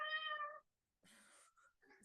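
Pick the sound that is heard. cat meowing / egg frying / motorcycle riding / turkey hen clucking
cat meowing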